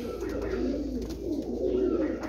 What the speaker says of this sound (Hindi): परवाजी उड्डे डाए कबूतर बहुत ही कमाल दे माशाल्लाह